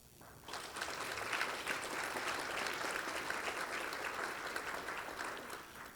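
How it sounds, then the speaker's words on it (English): Sustained applause from a conference audience at a rural healthcare summit in South Georgia, a dense, steady wash of clapping that holds for several seconds before tapering slightly at the end, with no voices over it. "Help me give a round of applause for those providing for the meals and the scholarship support."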